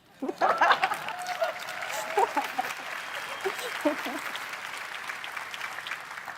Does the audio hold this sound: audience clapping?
yes